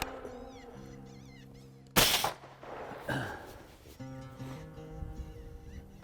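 A single sharp rifle shot fired at a coyote in Kansas, a loud close crack partway through, set against a warbling call in the background before and after.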